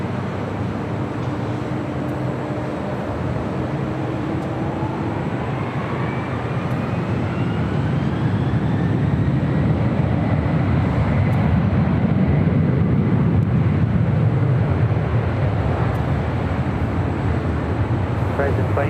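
A Delta 972 Heavy jet takes off at LAX, a loud broad engine roar swelling steadily over nearly twenty seconds and holding strong, with a radio voice talking over it.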